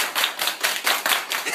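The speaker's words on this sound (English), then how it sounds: "Hey, everybody clap your hands." Rhythmic hand clapping by a few people to a party beat, about seven sharp, evenly spaced claps in quick succession, close and fairly loud with no voices.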